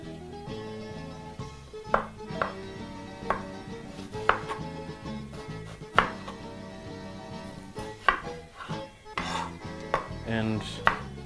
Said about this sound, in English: And proceed to chop the other half just the same.